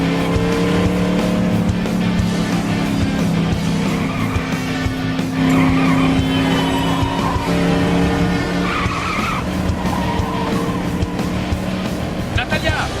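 Car engine revving and tires skidding with repeated squeals in the LEGO City Undercover video game, loud and continuous, with game music or voices mixed in underneath.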